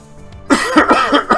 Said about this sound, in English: More coughing and hacking.